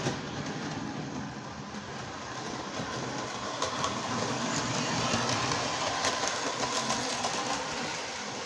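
A repainted, cleaned-up Special 211 model train engine with new motor brushes runs steadily on its track, a continuous whirring motor hum with light rail rumble and faint clicking, fairly close and alone.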